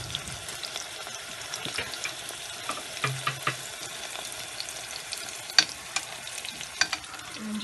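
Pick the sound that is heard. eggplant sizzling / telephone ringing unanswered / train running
eggplant sizzling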